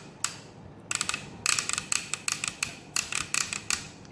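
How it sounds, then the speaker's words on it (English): Ratchet shoulder joint on a Transformers Generations Titans Return Leader Class Blaster toy, clicking in sharp, loud bursts of rapid plastic clicks, several short runs separated by brief pauses, close up with no talking. "Very loud ratchet."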